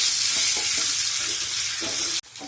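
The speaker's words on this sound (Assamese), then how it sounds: "পটলকেইটা অকণমান ফ্ৰাই কৰি লৈছোঁ।" Pointed gourd (potol) frying in hot oil in a pan, with a dense, loud, continuous sizzle that cuts off abruptly near the end, then resumes more faintly.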